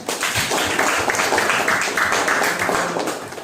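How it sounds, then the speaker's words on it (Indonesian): Classroom applause for a student named Iren during a teacher performance test lesson, a steady dense patter of many hands clapping, loud and close, with no talk. "kasih tepuk tangan untuk Iren"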